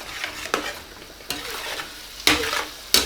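Meat in a hot pan with gravy being stirred in, soft frying sizzle under several distinct scraping sweeps of a spoon against the pan, close and unhurried.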